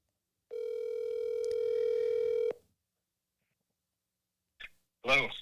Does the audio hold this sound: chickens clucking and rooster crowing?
no